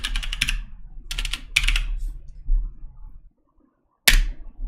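Keystrokes on a computer keyboard as a command is typed and entered: a few loud, close bursts of rapid clicking, a brief silence, then one sharp final keypress, with no talking.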